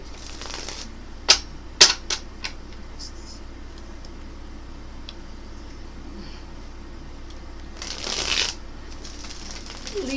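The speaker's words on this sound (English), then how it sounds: "Let's get 3 more shuffles." Tarot cards being shuffled by hand: a few short, crisp riffling bursts early on and a longer papery flurry near the end, close and fairly quiet over a low steady room hum.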